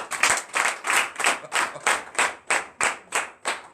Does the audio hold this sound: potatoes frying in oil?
no